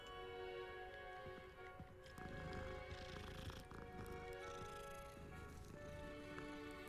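Cat sounds in the video game Hogwarts Legacy, set against continuous game music and ambience, with soft animal vocal tones mixed under the steady background score.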